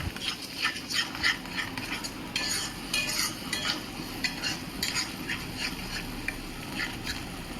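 Onion being stirred with a paste of cashew and melon seeds in a pan, repeated scraping and clinking strokes of a utensil with a soft sizzle underneath; a dog barks in the background.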